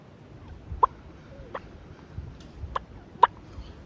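Four short, hollow clucking notes spaced irregularly over a soft background hiss, a mouth call imitating a turkey's cluck, close and fairly clear.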